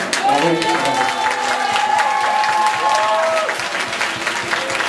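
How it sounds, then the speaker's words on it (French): Steady, loud audience applause at a cabaret evening, sustained clapping from a crowd throughout, with voices and a tonal music-like line briefly mixed in underneath. "Alors, je propose de l'applaudir parce qu'un record a été battu."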